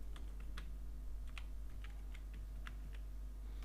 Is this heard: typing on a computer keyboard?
yes